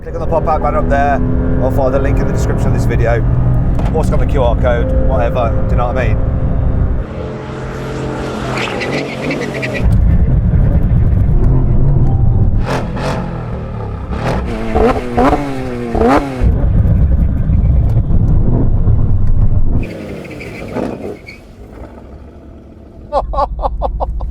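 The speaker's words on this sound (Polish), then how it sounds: "Teraz będziemy mieli test tak hamulców od 160 km na znaczy godzinę." A Porsche 911 GT3 RS and a Mercedes-AMG GT R run a braking test from 160 km/h, with loud engine roar and high revving, shifting tones and hard deceleration, while people talk over parts of it.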